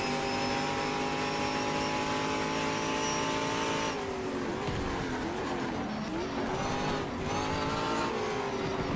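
Porsche race car in the racing game GTR 2, its engine droning steadily and loud, shifting pitch midway as it slows and revs through corners, with a hint of tire noise.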